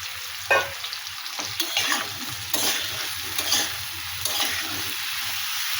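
Brinjal pieces fry and are stirred in a hot pan for a taro, brinjal and bhangan fish curry, a steady close sizzle broken by a handful of scraping clatters from the spatula.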